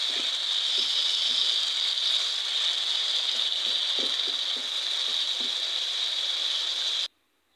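Potatoes with mola fish fry in oil in a covered pan, giving a steady, hissing sizzle that stays even for several seconds with faint pops underneath, then cuts off abruptly.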